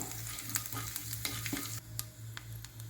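Mustard seeds, urad dal and dried chillies fry in hot oil, giving a steady crackling sizzle with scattered sharp pops and a low stove hum beneath, no voices.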